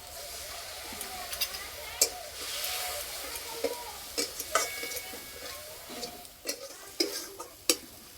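Ground spices with a little water and oil frying in a pan for aloo paratha filling, a steady low sizzle with scattered clicks and scrapes of stirring, fairly quiet throughout.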